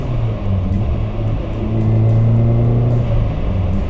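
Small, narrow Suzuki Swift GTi hatchback from the 90s being driven, its engine droning steadily with a low hum that swells and holds as it revs, close and continuous with no talking.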